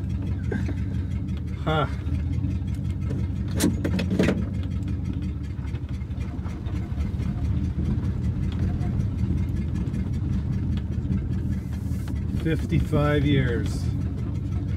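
A flathead Ford car engine runs on its first drive since 1966, giving a steady, close, low rumble throughout, with brief voices talking over it.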